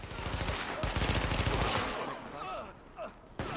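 Rapid automatic gunfire in the video game Tom Clancy's The Division, a dense burst of shots for about two seconds followed by scattered softer game noises and a final sharp report.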